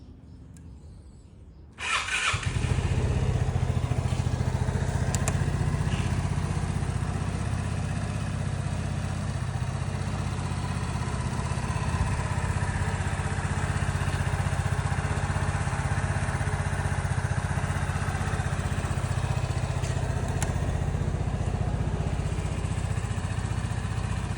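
A 2019 Vespa S125 iGet scooter engine starts after a brief quiet moment and then runs at a steady, loud idle for the rest of the span, close by and with no talk.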